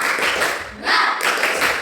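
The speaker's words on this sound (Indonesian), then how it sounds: "kita tetap tepuk semangat untuk kelompok 4" Students in a classroom do a rhythmic spirit clap for a presenting group, brisk patterned clapping from many hands close by, with a brief dip midway before it picks up again.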